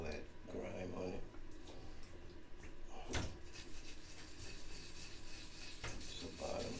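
Scrubbing and cleaning a turtle's shell, close soft rubbing and rasping strokes in irregular bursts, with a sharp knock midway and a quiet voice talking in the background.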